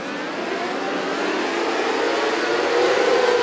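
A sprint race car engine drones and revs on a dirt track during a Friday night A-main, a steady loud mid-pitched roar that rises slightly toward the end, with no talk.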